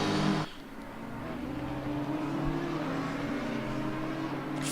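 A GT race car in an Assetto Corsa Competizione simulation at Suzuka overtakes a lapped car, its steady engine drone holding loud and continuous throughout after a brief opening burst.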